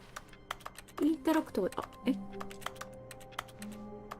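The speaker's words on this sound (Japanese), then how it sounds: "インタラクトすると、キーボードの音がする。" Rapid computer keyboard clacks in The Stanley Parable: Ultra Deluxe come as quick, close key taps. A voice talks briefly over the first part, then the tapping continues alone.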